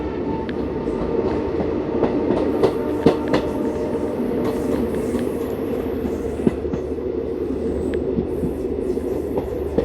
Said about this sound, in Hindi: ये सामने से कोई ट्रेन आ रही है, पैसेंजर ट्रेन है कोई, पैसेंजर ट्रेन है।